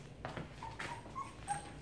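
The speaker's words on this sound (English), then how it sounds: "Here is Zahra and her 10 puppies" Three-and-a-half-week-old puppies in a litter of ten let out faint, high, thin whimpers and short yips, several brief cries scattered over a quiet background.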